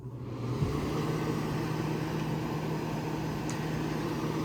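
A restored 1988 AirTemp 8,000 BTU window air conditioner with a replacement fan motor runs on high fan, giving a steady, close broadband whoosh over a constant low motor hum, with no talking.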